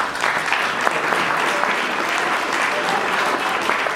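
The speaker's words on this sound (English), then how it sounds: "Let's hear a round of applause." Steady, full audience applause at a Hinsdale village board candidates night, a continuous dense wash of clapping throughout with faint crowd sounds.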